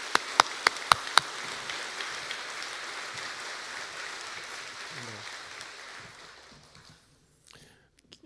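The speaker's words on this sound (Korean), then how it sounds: "큰 박수로 환영해 주시면 감사하겠습니다." A church congregation applauds to welcome a missionary: broad, dense clapping that holds steady, then fades out near the end, with a few sharp claps at the start and faint voices underneath.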